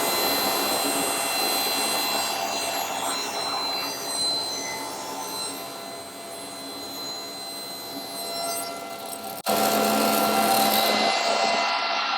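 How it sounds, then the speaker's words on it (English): A workshop dust collector runs as a loud, steady broadband roar throughout, with a sharp step in level near the end as the machine changes load. "turn on my dust collector"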